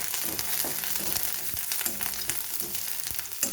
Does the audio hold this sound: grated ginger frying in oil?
yes